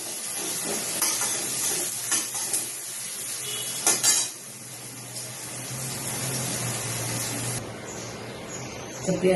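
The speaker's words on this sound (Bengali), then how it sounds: "পেঁয়াজটা ভেজে তুলে রাখছি।" Chopped onions fry in a pan with a steady hiss and sizzle, broken by occasional stirring clanks, loud and close throughout.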